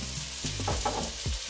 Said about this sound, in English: Can y'all hear that sizzling? That sizzling just, I love that noise.